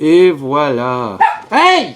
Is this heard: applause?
no